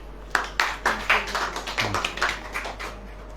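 Church congregation clapping during a Hindi sermon, a few distinct rhythmic claps about every quarter second, fairly close and unaccompanied by talk, over a low steady hum.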